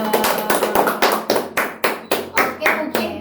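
Several people clapping in a casual interview setting in Wamena after a management storytelling chat, a quick run of distinct, fairly close claps in an uneven rhythm, with faint background voices.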